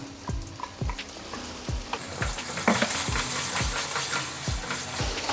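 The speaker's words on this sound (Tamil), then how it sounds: "எண்ணெயில் ஒரு தடவை வதக்கிட்டு நம்ம புளி கரைச்சி ஊற்றிக்கலாங்க" Ground spice paste for a keerai kara kuzhambu, made with mudakathan greens, fries in hot oil with steady sizzling, while a spoon scrapes the pan in a repeated rhythm of knocks, close and moderately loud with no voices.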